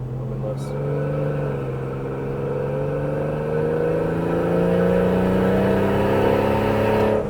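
Car with a Barra engine accelerating in third gear on an open road, a steady droning engine note rising gradually in pitch as revs climb, loud and close from the cabin.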